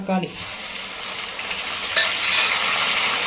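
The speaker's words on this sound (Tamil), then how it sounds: "தக்காளி நல்லா ரோஸ்ட் ஆகட்டுங்க" Two chopped medium tomatoes fry in hot oil over a high flame for a biryani-style eggplant gravy, producing a loud, steady close sizzle with a brief clatter of a spoon at the start and no speech.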